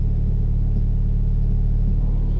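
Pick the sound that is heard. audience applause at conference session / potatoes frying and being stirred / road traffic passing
road traffic passing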